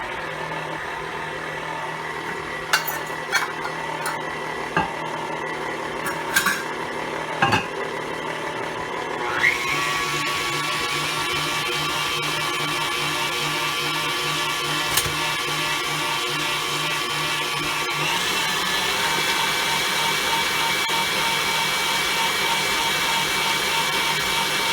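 An electric mixer creams butter with white and brown sugar for a Southern sweet potato dessert. A few clicks and handling knocks come first, then a steady whirring motor drone runs to the end, with no talk.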